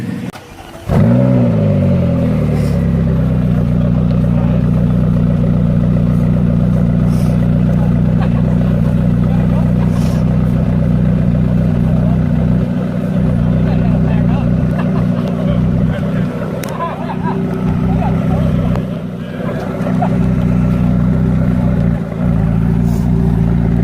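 A supercharged Aston Martin V8 Vantage pulls away with a loud, sustained engine roar that holds steady for over twenty seconds, dipping briefly near the end, with voices talking over it.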